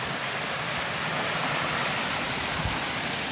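River water rushing steadily near a waterfall in Tobago, a dense, continuous broadband roar heard up close with no voices over it.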